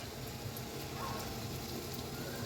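Onions and chilies frying in hot oil for a vegetable noodle dish, a steady close crackling sizzle with a faint rain-like hiss, continuous and even throughout with no voices.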